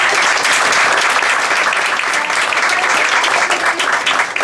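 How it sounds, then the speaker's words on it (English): Diners at an October anniversary dinner applaud the volunteers who cooked, a loud, full round of clapping from a crowd in a hall that keeps going steadily and then trails off near the end. "so let's give them a round of applause"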